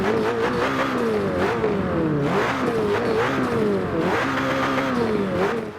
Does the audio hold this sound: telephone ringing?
no